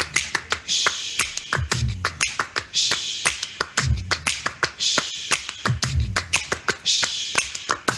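Close, rhythmic hand claps and finger snaps repeat in a steady ostinato pattern during a choir warm-up, with brief low vocal sounds between the sharp hits.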